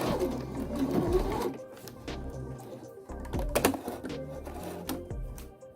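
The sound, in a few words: sewing machine stitching pockets on a vintage blanket coat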